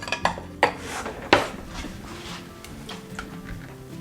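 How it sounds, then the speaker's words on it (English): A wooden spoon strikes a whole pomegranate in a kitchen, giving three sharp, dull knocks near the start and middle, then softer faint taps and handling noise close by with no talking. "they used a wooden spoon and like hit it"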